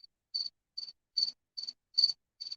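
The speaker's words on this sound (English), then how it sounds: "You like the cricket? It is kind of noisy, isn't it?" A cricket chirping in a quiet setting, six evenly spaced short trilled pulses, clear and fairly close with near silence between them.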